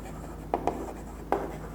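Marker or chalk writing notes on a board, with a few short tapping strokes over a quiet room hum and no speech.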